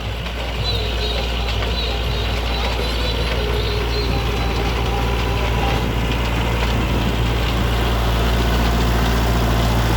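A heavy diesel tractor engine idles steadily at close range, a constant low rumble with rattling vibration running for the full duration.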